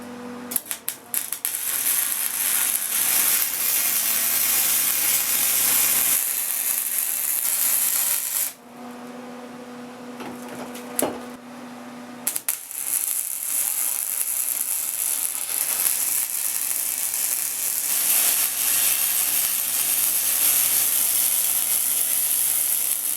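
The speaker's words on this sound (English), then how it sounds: "So we're gonna go ahead and tack weld these things into place" An arc welder tack welds parts onto a racing mower frame, giving long, loud crackling hisses broken by a short pause, with steady buzzing throughout.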